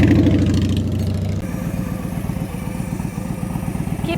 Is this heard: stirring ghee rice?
no